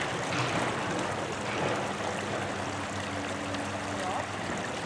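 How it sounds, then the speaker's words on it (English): Stream water is poured to wash sediment and macroinvertebrates from a sampling net into a bucket, a steady rushing and trickling wash that holds a constant level, with a river flowing in the background. "So she is washing all the sediment and macroinvertebrates from the net"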